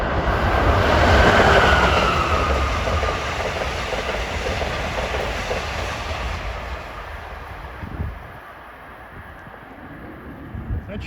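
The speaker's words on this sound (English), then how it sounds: "Got an Amtrak heading for New York at 4:48." An Amtrak train passing through Rahway, a loud, fast rushing roar with rail clatter that peaks early and then gradually fades as it moves away, heard close outdoors with some faint talking.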